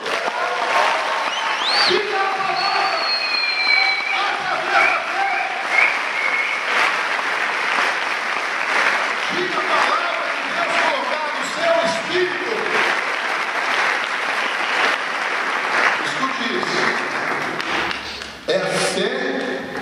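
Steady applause from a large church congregation at a worship service fills the whole stretch, dense clapping at an even level with a few scattered shouts and tones.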